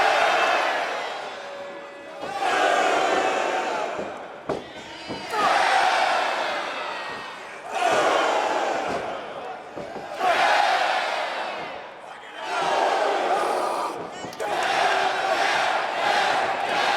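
Ringside wrestling crowd at a Ring of Honor show in Canada chanting in loud rhythmic waves, swelling roughly every two seconds with cheers, a big arena crowd close and continuous.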